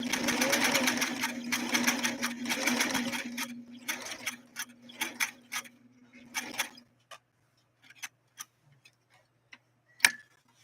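Singer Stylist sewing machine running a zigzag stitch through 100% cowhide, a fast rhythmic mechanical ticking for several seconds before slowing into scattered individual clicks and a final sharp knock, with a person speaking briefly.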